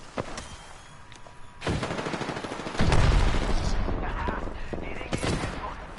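Automatic weapon fire in an Apex Legends match, with sharp shots and longer rattling bursts coming in waves, the loudest volley around the middle, mixed with a talking voice.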